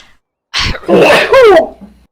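One sharp, close sneeze with a quick intake of breath, loud and alone in a quiet room.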